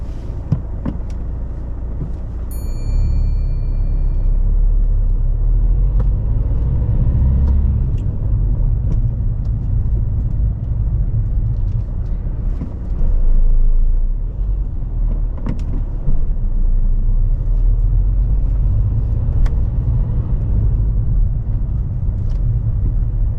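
A learner's car pulls away on a road during a mock driving test, its engine a steady low rumble close by from start to finish, with no voices over it.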